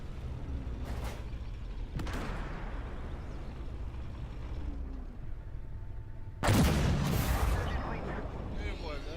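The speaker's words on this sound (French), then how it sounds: "Le son du canon, il me semble que ça sonne plus." Booming tank cannon shots from the video game Armored Warfare, a couple of sharp blasts early and a louder one later, with rumbling low-end noise between.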